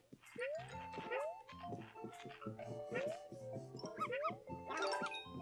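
A dog in the video game Yoshi's Crafted World whimpers and yips in short, high, rising cries over bouncy plinking game music, fairly faint and repeated throughout.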